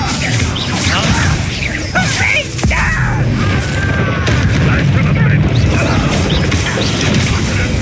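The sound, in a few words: Confringo spell explosions, from Hogwarts Legacy video game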